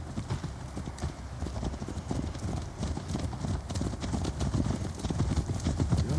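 A horse galloping as Eivor rides in the video game Assassin's Creed Valhalla, steady rhythmic hoofbeats, fairly close and continuous, with a faint voice underneath.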